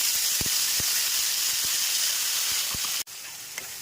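Spice paste sizzles loudly in hot oil in a pan, a broad steady hiss with a few faint clicks, then cuts sharply quieter near the end.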